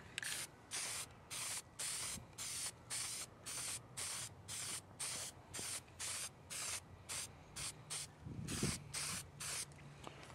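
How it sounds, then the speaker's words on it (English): Rust-Oleum Hammered spray paint sprays onto a plastic box outdoors in wind, about twenty short bursts of hiss in a steady rhythm, close and fairly loud, with a low wind rumble underneath. "I'll do just like I would regular spray paint"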